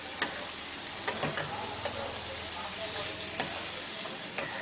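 Chicken pieces stirred with spices in a pan for Bengali-style chicken dopiaza: a continuous sizzle broken by several sharp scraping stirs, close and moderately loud, with no speech.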